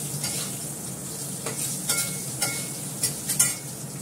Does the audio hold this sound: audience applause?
no